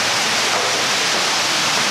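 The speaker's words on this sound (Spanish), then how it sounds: "está el ruido de del agua del chorro" A water jet splashes at a hotel in Villa Clara, Cuba, a loud, close, continuous hissing spray of falling water that stays steady without pause and has no voices over it.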